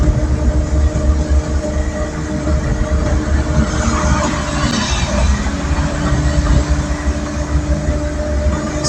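A Suzuki DA64V 4x2 non-turbo automatic with a 3-cylinder engine climbs a steep uphill road, heard from inside the cabin as a steady, heavy, low engine drone with road rumble throughout.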